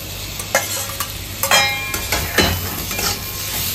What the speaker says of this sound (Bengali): এবার আলুগুলো দিয়ে একটু কষিয়ে নিচ্ছি